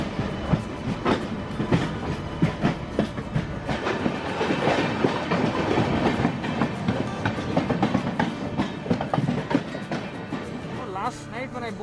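Steady rumble and rhythmic clatter of an electric locomotive of the Jan Shatabdi Express moving along rails at a station platform, loud and close throughout, with voices faintly mixed in.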